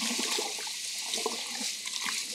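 Rice seeds being stirred by hand in water for seed treatment make a continuous watery swishing and sloshing, close and moderately loud, with no voices.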